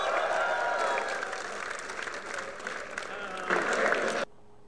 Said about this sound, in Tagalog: Request muna sa crowd, kaliwat ka ng palakpakan!